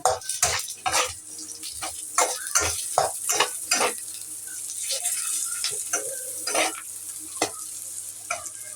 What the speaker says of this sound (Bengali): পেঁয়াজটা লাল করে ভেজে নিয়েছি এখন কাঁচামরিচ দিয়ে দিব